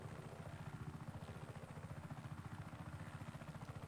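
A helicopter in the video game Just Cause 3 gives a steady, fast rhythmic rotor chop with a low engine drone, quiet and continuous throughout, with no talking.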